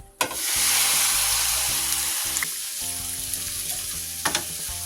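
Seasonings for ackee and saltfish frying in oil in a pan, opening with a sudden loud sizzle burst that settles into steady hissing and crackling, with a few clanks near the end.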